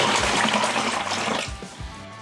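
Water pours steadily in a rushing stream into a Rapid Set mortar mix, then tapers off into a few splashes and drips, close by with no talking.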